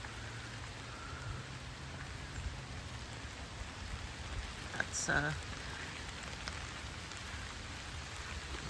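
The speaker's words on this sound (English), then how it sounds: "And now it's raining" Steady rain patters down in a dense, even hiss, with a brief clatter midway and a short spoken word over it.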